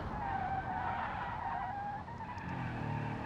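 Car in BeamNG.drive braking hard and skidding wide around a turn, a sustained tire squeal over engine rumble lasting the whole stretch, steady and loud.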